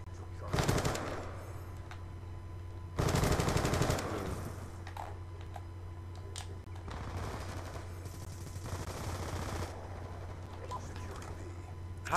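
Video game gunfire in Black Ops 2: two loud bursts of automatic fire a couple of seconds apart, followed by quieter, more distant shots and clatter.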